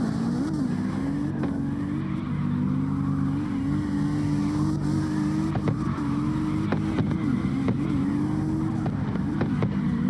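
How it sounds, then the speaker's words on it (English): A drift car's engine holds a steady, high revving drone through a long slide around a roundabout, with faint tire noise and no one talking. "But man, what speed that car has."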